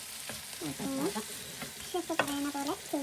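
Chicken frying in oil in a pan gives a close, steady sizzle under a person's talking, with some stirring noises.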